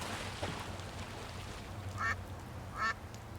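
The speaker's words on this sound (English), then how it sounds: "This noisemaker seems to appeal to the ducks." Ducks quack on a Paris street in the point-and-click game Secret Files 2: Puritas Cordis, two short nasal quack bursts about a second apart over quiet ambient game sound.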